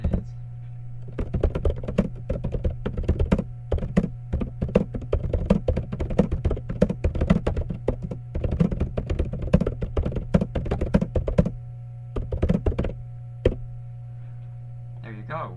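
Rapid typing on a computer keyboard running the Linux Mint desktop, a dense stream of close clicky keystrokes in bursts with short pauses, over a steady low electrical hum.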